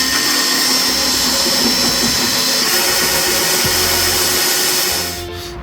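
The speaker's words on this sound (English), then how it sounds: "need to drill spot welds out on that, so that'll be good." Power drill boring out spot welds on a car bracket during an Impala build, a continuous loud whirring grind that holds steady for about five seconds before tailing off, with no voices.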